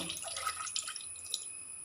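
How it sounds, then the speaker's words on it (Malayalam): A short splash of water poured into a pan, trickling and dripping briefly before tapering off. "കൂടെ 1 ഗ്ലാസ് വെള്ളം കൂടെ ചേർത്ത് കൊടുക്കുന്നുണ്ട് കേട്ടോ"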